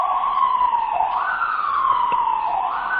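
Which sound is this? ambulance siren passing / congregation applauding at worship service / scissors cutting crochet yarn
ambulance siren passing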